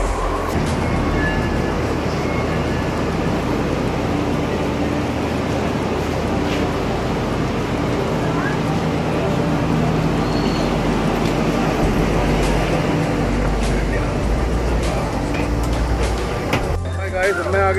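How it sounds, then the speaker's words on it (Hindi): Delhi Metro train riding along, a steady rumbling drone of wheels and carriage with faint clatter throughout, heard from inside the car. "तो मैं चला मेट्रो के अंदर"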